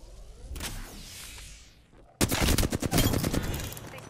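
Gunfire in the Apex Legends video game: a quieter stretch of ambient action, then a sudden loud burst of rapid automatic shots crackling densely through the rest of the moment.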